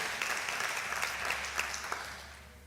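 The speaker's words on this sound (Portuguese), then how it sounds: "Vamos dar uma salva de palmas" Church congregation clapping together in a steady round of applause, moderately distant and soft, with a low continuous hum beneath and no talking.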